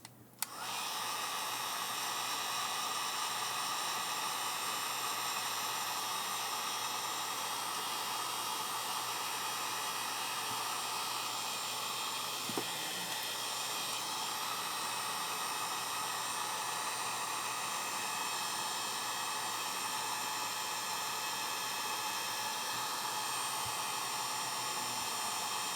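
A hot air blower runs continuously, a steady loud roaring whoosh aimed at a plastic piece on a 3M PAR G5 drive-thru headset microphone, starting abruptly and holding an even tone throughout with no talk.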